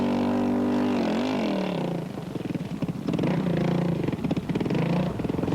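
The only Kawasaki rally motorcycle in a desert rally raid, its engine droning loud and steady, then revving and rising in pitch in repeated surges as it works through deep sand and hard rock.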